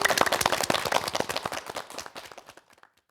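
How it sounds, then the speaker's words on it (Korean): Studio audience at a Korean morning show gives a lively burst of clapping that thins out and fades to near silence over about three seconds. "여러분 큰 박수로 환영해 주십시오."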